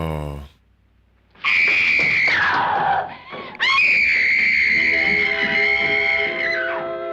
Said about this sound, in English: Another scream they're not going to hear.